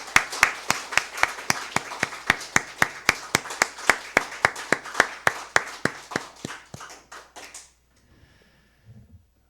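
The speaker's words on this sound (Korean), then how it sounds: "큰 박수로 환영하겠습니다." A church congregation at an Easter Sunday service claps in steady, rhythmic unison to welcome the newly baptized, about thirty crisp beats that thin out and stop, followed by near silence.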